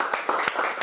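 Audience applause at a talk on happy education, a short burst of scattered clapping that sounds moderately loud and close, with no voices over it.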